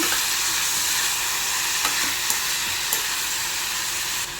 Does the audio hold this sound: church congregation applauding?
no